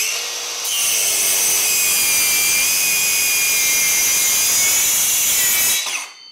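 Dongcheng DCMY125 cordless brushless mini circular saw cutting through bengkirai hardwood, a loud, close, steady high-pitched whine with a rasping bite that runs for several seconds before the blade spins down, with no talk.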